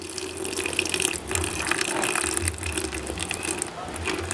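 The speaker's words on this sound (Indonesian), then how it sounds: "Nah, tuangkan air putih seperti ini." Plain water is poured into a fungicide mixture in a small container, a splashing trickle with faint clinks, fairly close and continuous.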